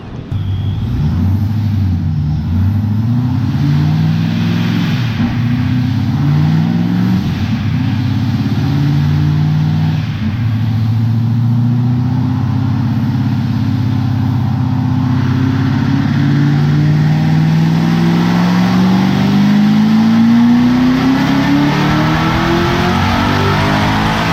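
A modified C6 Corvette engine with added timing revs through a long dyno power run, a loud continuous drone that climbs steadily in pitch toward the end.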